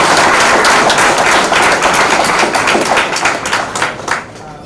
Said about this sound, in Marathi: हातात प्लेट नसेल तर जरा जोरात टाळ्या वाजवून त्यांचं अभिनंदन.